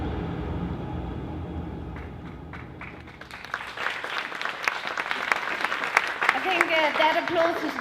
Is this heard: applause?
yes